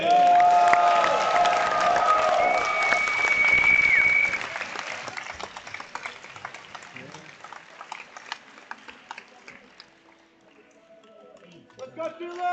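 A crowd at a Melbourne Summer 2024 finals event breaks into loud applause and cheering that holds for a few seconds, then thins into scattered clapping and fades, with voices audible throughout.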